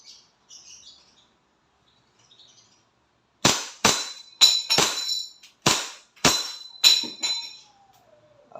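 A WE 2011 Hi-Capa I-Rex airsoft pistol fires about eight sharp, close semi-automatic shots in an uneven rhythm after a few faint clicks, with a brief mechanical scrape at the end.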